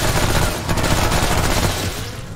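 A submachine gun in the Remnant: From the Ashes video game fires a loud, dense burst of rapid shots that runs continuously for a couple of seconds, then tapers slightly at the end.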